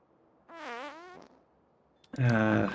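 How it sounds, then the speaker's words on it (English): Puffer creatures in the video game Factorio let out two loud, buzzy farting noises, a wavering one early and a harsher burst near the end, separated by a quiet gap, with no talking. "That's maybe my least favorite part about the puffers, is the relatively loud farting noises."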